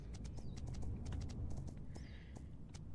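Ponies and horses in a horse-life video game, with steady hoof clip-clops walking at a moderate pace and a faint whinny, heard quietly at a distance with no talk.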